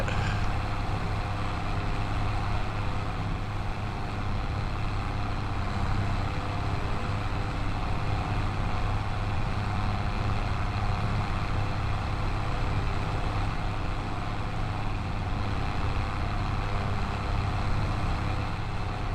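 A truck engine labors at a steady heavy drone while plowing snow at a shop in Montana, loud and constant with a low rumble and no voices.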